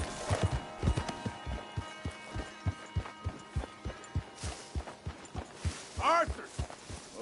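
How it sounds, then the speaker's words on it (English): Horse hooves clip-clop in a steady rhythm in Red Dead Redemption 2, close and distinct, with a brief whinny-like call near the end and some game voices talking in the background. "Hey, get that horse out of here."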